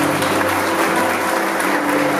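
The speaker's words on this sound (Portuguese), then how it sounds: "Uma salva de palmas para eles." Congregation applauding during a church service, a dense, steady wash of clapping filling the whole stretch at close range.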